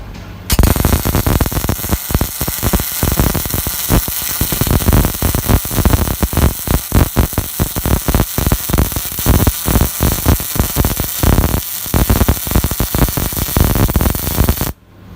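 A JASIC MIG welder runs a 15 kg wire spool on a machine built for 5 kg spools, giving a loud, continuous crackling buzz with a rapid irregular sputter that starts abruptly and stops sharply near the end.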